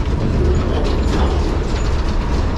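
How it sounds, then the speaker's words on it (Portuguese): A train grinds and clanks as it slows toward a stop, with a loud, steady metallic rattle of wheels and couplings filling the whole stretch and no talking. "o trem tá parando"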